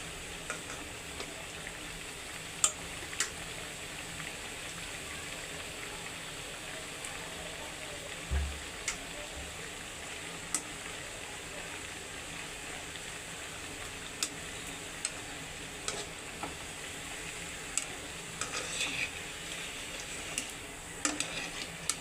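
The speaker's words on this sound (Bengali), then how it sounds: "এইভাবে সব উলট পুলট করে ভেজে নেব একদম সুন্দর করে, পুরো খাস্তা হয়ে যাবে বন্ধুরা" Coconut pithe frying in hot oil while being flipped over, a steady soft sizzle running throughout with faint clicks and light stirring taps.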